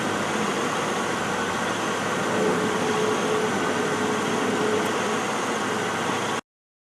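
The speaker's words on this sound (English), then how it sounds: "So now the compressor's running." A 2000 Buick LeSabre engine idles with its AC compressor running, a steady close hum and whir with broad hiss, holding even for about six seconds before cutting off abruptly.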